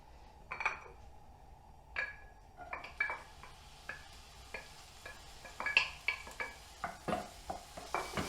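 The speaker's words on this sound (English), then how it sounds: "Allow that to heat up, and first we're going to fry off the onions." Onions frying in oil in a pan, a soft sizzle beneath repeated close clinks and scrapes of a utensil stirring against the pan at an irregular pace, with no talking.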